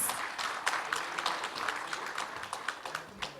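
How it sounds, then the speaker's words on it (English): Audience applause for a panel at a marketing conference, a faint, steady patter of many hands clapping in a hall, fairly distant, with no talk over it. "Back with a loud round of applause,"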